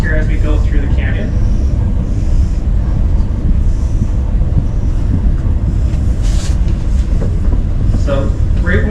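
Steady low rumble and rattle from inside a moving Rocky Mountaineer passenger train carriage passing through a canyon between Kamloops and Vancouver, loud and continuous, with wind noise and faint voices in the background.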